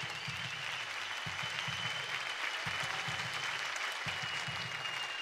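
Faint, steady applause from a studio audience for Popstar singing-competition contestants, a continuous wash of clapping with some thumping beats beneath it throughout.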